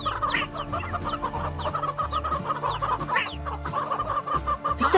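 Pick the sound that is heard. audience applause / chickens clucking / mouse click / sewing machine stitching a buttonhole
chickens clucking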